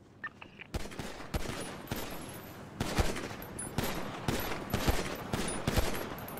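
Rapid bursts of video game gunfire in a GTA roleplay shootout, several weapons firing together in repeated sharp cracks across the whole stretch, loud and close, with no talk.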